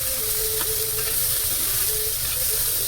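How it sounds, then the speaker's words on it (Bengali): Steady sizzling and crackling of prawns frying in hot oil in a pan, with occasional stirring scrapes, close and continuous. "চিংড়ি মাছটাকে ভেজে নেব।"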